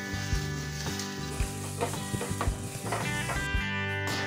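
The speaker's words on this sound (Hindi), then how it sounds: "और इसे अब हम थोड़ा सा ट्रांसपेरेंट होने तक फ्राई कर लेंगे।" Onions with ginger garlic paste frying in a pan, a steady close sizzle with repeated stirring scrapes and clinks of a spatula throughout.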